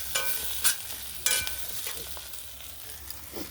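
Chopped onion with grated ginger and garlic frying in a pan for a banana flower and prawn curry, a soft steady sizzle broken by a few sharp stirring scrapes and clinks, close and unaccompanied by voices.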